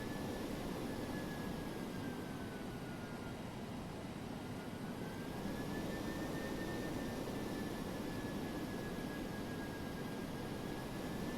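A DC-8-73F jet taxis in the FSX flight simulator, a steady broadband engine roar with a faint whine gliding up and down. The roar holds at an even level throughout, with no voices.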